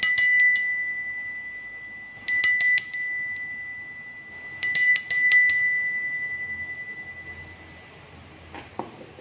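A bell chimes three times at even intervals, each strike bright and ringing with a long decaying tail, followed by a faint knock near the end, with no voices.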